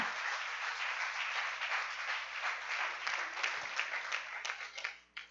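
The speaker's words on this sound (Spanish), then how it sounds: "Denle un aplauso al Rey" A church congregation applauds during a sermon, sustained clapping from many people at moderate volume that fades away at the end.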